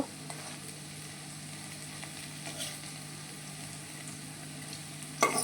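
Bora fritters sizzle steadily in a pan of hot oil, a soft continuous fry heard alone with a faint clatter at the end.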